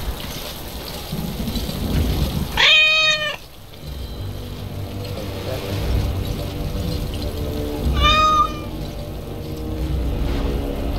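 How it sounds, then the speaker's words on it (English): Two distinct cat meows from a Dragon Age: Awakening video game, the first around a third of the way in and the second later, each loud and clear over a steady low game ambience and background rumble. "Why did I get a cat? I have a cat in my inventory."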